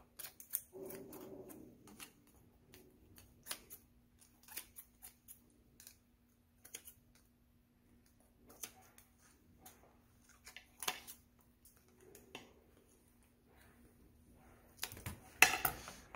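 Scissors snip at the thin membrane joining the head and body inside a lobster, giving faint, scattered clicks and cuts with quiet pauses and a louder cluster of snips near the end, with no talking.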